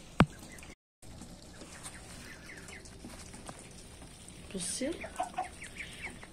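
Chickens cluck and chirp faintly in the background of an outdoor yard, with a short burst of clucking later on and someone speaking briefly.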